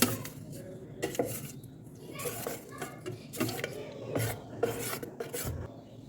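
A spoon breaks up lumps and stirs semolina batter for kurdai in a pot, making rhythmic scraping and rubbing strokes close by, with faint voices in the background.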